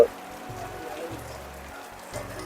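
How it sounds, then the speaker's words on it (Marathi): Steady heavy rain patters on a surface, a constant wash of noise without pauses, with a low murmur underneath, in a Konkan village at Vengurla, India. "एवढा जोरात पाऊस पडतोय"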